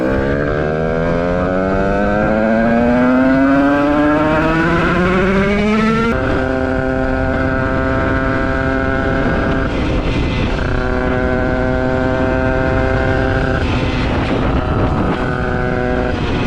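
A 50cc Beta moped fitted with a 115 LMR kit revs hard while riding, its engine note climbing steeply, dropping at a gear change, then holding a loud buzzing drone with small dips, close and continuous with no talk.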